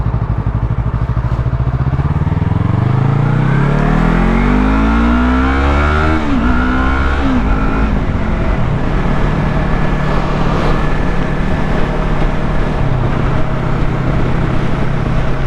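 A Yamaha R3 motorcycle engine, heard from the rider's position, revs up through a rising pitch, shifts gear around the middle, and holds a strong steady drone over constant wind noise for the rest of the ride.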